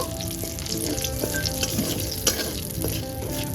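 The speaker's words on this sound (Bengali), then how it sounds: "সুন্দর করে ফোড়নটাকে একটু ভাজা ভাজা করে নেব" Dried red chilli and nigella seeds frying in hot oil as a tempering, a steady close crackling sizzle with small pops and occasional stirring clicks, no voices.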